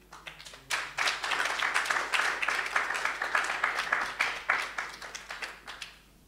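A congregation claps together after a talk during a Seventh Day church live stream, a dense, steady round of applause that starts after a brief pause, holds evenly and thins out near the end.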